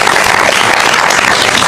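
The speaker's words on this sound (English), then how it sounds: "I think it's worthy of a round of applause" A crowd gives a dense, loud round of applause at a New York City mayor's press event, the clapping continuous and even throughout the short burst.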